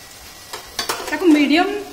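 Yellow split pea chakli dough sizzles and bubbles as it drops into hot oil, with a soft scrape of stirring before the frying swells louder near the end.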